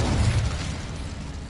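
Incendio fire spell effect: a sustained, loud whooshing burst with a heavy low rumble, swelling at the start and then holding steady.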